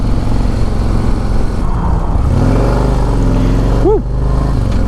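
A 2024 Harley-Davidson CVO Road Glide in orange pulls away hard, its loud close engine drone rising steadily in pitch through the gears, with a brief dip near the end as the throttle shifts.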